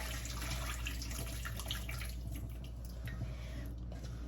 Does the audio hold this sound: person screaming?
no